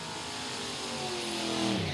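Two drag racing cars, a 1963 Chevy Nova and a Ford Falcon, launch side by side down the strip, engines revving hard and rising in pitch, heard from a distance over crowd-level ambience.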